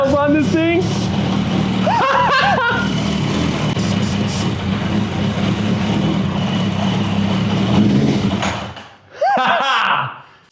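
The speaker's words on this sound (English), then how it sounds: "that was the first time this bike has started up in 8 years." A motorcycle engine, started for the first time in 8 years, idles and runs roughly and loud nearby, cutting out briefly near the end before firing again, with people talking over it.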